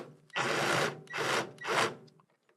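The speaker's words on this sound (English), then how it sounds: "I'm going to use a countersink just to clean it up a little bit" A countersink bit cleans up tear-out on a wooden workpiece spinning on a lathe, giving three loud, sustained rasping bursts of cutting and rubbing, each lasting a fraction of a second to about half a second, with short pauses between them.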